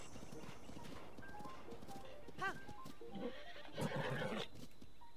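A horse in The Legend of Zelda: Breath of the Wild, with a quick neigh and clopping hooves over quiet ambience, the sounds coming in short bursts at a moderate distance.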